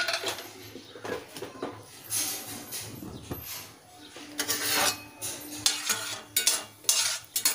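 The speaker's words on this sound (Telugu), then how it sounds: "ముందుగా కొన్ని పల్లీలు వేసుకుంటున్నాను." Peanuts dropped into two tablespoons of hot oil in a pan on a stove, giving scattered clinks and rattles with a light sizzle and stirring, moderately close, with no talking.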